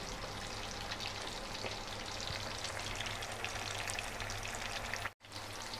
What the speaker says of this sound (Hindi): हमें इनको बिल्कुल डीप फ्राई करना है ताकि जो कच्चापन है वो बिल्कुल ख़त्म हो जाए इसके अंदर